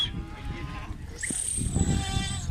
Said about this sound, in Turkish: Arkadaşlar bir de koyunların videosunu çekmeyi unuttuk.